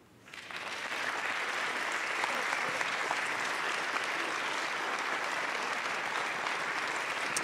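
An audience bursts into applause for a featured speaker, rising within the first second into a sustained, even roar of clapping that holds steady to the end.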